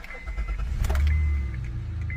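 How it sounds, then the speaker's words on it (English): A Honda car engine cranks and catches after a key click, then settles into a low, steady idle close by with no talk. "So I'm gonna start the vehicle up."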